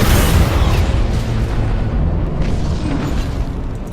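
A heavy, rumbling boom fills the whole stretch as an Imperial escort spaceship is destroyed in the space strategy game Battlefleet Gothic: Armada. The blast is loud and sustained, with dense low-frequency roar that tapers only slightly, and no voices over it.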